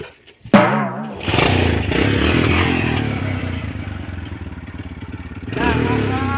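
A motorcycle engine catches after a short kick-start clatter and settles into a loud, steady idle close by, then revs up again near the end.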